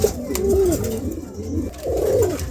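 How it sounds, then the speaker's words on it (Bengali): A pair of pigeons nesting on eggs coo close by, soft low rolling calls repeating in a steady rhythm with no talking. "চমৎকার এক জোড়া কবুতর দেখছেন মাশাআল্লাহ"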